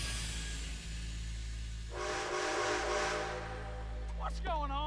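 Train rolling past in Red Dead Redemption 2, a steady low rumble with hissing that swells midway, then sharp rising whistle-like tones near the end under music.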